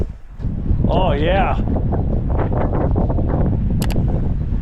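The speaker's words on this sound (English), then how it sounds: "We got a good 15-20 mile per hour wind whipping through the mountains here." Gusty mountain wind, 15 to 20 miles per hour, whips through a snowy winter camp as a steady broadband roar that swells and holds, with a person talking briefly over it.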